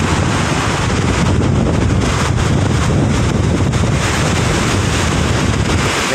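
Big waves churning on Manila Bay after a typhoon, a continuous loud roar of surf and strong current with heavy wind buffeting the microphone throughout.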